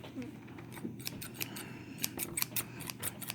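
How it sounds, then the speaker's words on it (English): Close, crisp snips of small scissors cutting through figure packaging, a quick irregular series of sharp cuts with faint rustling between them. "scissors to cut safely so we don't damage anything."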